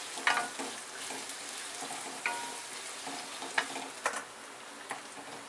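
Onion frying in a pan until reddish, a steady close sizzle broken by several sharp stirring scrapes and taps of a spoon.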